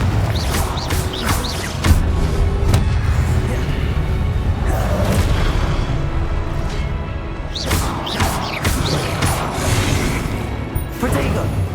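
Confringo blasting spells explode in Hogwarts Legacy combat: sharp booming bursts and crashes strike at irregular intervals, mixed with spell effects and shouted incantations over a constant game background.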